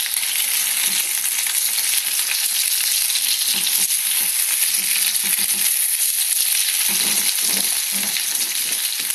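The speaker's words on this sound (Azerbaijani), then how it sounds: "Balığın bir üzü qızarıb, ehtiyatla çevirirəm." A whole Caspian kutum (Lənkəran fish) stuffed with roe fries steadily in a pan, a dense continuous sizzle with soft bumps and shifts as it is carefully flipped over, close and alone without talk.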